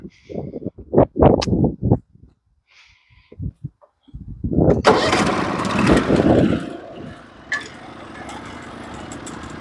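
Norwood HD36v2 sawmill engine cranking with short sputters, then catching and roaring loudly as the blade starts cutting an oak log, settling into a steady, noisy drone.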